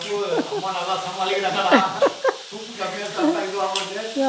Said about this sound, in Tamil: சுண்டல் வந்து எப்போவுமே எண்ணெயில் வந்து ஒரு ரெண்டு நிமிஷமாவது நல்லா வதக்கணும்